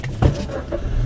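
A car pulls away across a sandy parking lot in Belgium, a low engine hum with a brief louder thump as it starts moving.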